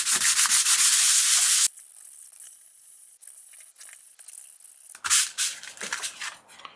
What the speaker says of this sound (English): I'm using sandpaper to make it gritty